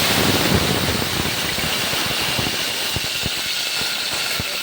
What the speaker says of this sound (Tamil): எண்ணெய் காஞ்சிடுச்சு. பின்ன கடுகு போட்டாச்சுங்க. கடுகு பொரிஞ்சு